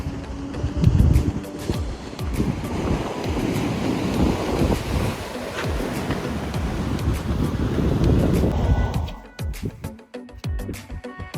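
Pacific Ocean surf and wind at Torrey Pines beach, a steady broad roar of breaking waves with gusty wind buffeting the microphone, easing off near the end.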